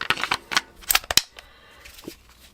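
A smaller magazine is pushed into a Smith & Wesson M&P 40C compact pistol, making a quick run of close, sharp plastic-and-metal clicks before fading into quiet.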